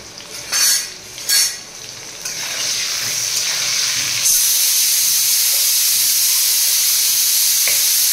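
Potatoes fry in hot oil with a loud, steady sizzle and hiss that swells after a few soft knocks and stirs of the pan, then holds as an unbroken bright crackle with no talking.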